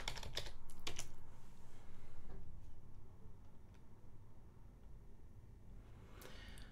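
Quick bursts of keystrokes on a computer keyboard as a terminal reboot command for an Arch Linux install is typed, loud at first and then thinning to a few scattered taps over a quiet room hum.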